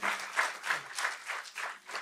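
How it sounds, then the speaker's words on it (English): An auditorium audience applauds panelists at a session, a moderately faint, uneven round of clapping that swells and dips in soft waves throughout. "may we have a huge round of applause once again for all the panelists"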